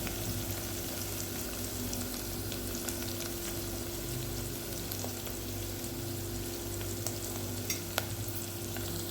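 Crushed garlic frying in a pan for a soya chunk curry, a steady soft sizzle with occasional stirring scrapes and small pops, close and even throughout.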